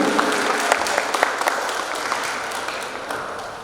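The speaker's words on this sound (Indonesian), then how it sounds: "Mari kita berikan tepuk tangan yang meriah." A crowd at a stock exchange listing ceremony for PT Hensel Davest Indonesia Tbk applauds in a steady, lively wash of clapping that fills the room and fades slightly toward the end.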